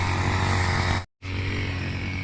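A grass cutter engine drones steadily at close range, a constant buzzing motor tone that cuts out briefly for an instant before resuming at the same level, with no voices.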